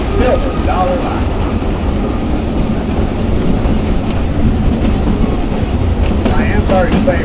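A Frisco line railroad train runs along the tracks with a steady, loud rumble and rattle that fills the whole stretch, with faint squeals near the start and the end.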